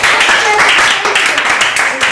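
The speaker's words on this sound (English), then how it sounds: "So a clap for everyone." A class of students claps together for everyone after presentations, a steady dense patter of hands filling the room, loud and continuous throughout.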